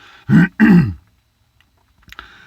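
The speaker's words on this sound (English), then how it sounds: "clearing my throat with a Coors Light" Two quick, forceful throat-clearing rasps close to the mic, followed by silence and a faint rustle.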